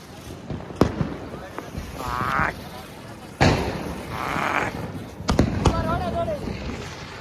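Diwali fireworks rockets in Bhavnagar: several sharp bangs and crackles at a distance, some with whistling streaks, set against ongoing chatter from people nearby.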